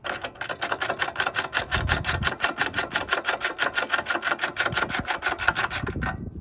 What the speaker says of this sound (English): So we're gonna go ahead and just tighten these bolts down some.